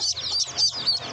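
A hen clucks in a village yard, several quick close clucks in a short rhythmic burst.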